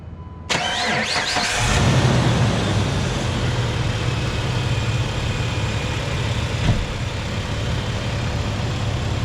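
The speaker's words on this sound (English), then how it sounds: "Let me start it up for you." A 2006 Jeep Wrangler Rubicon TJ engine cranks and catches, then settles into a steady, rumbling idle that runs on close by.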